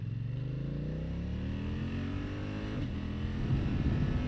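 A 2025 BMW F900XR motorcycle accelerates in rain mode, its engine note climbing steadily in pitch through the gears, close and continuous, with no talking.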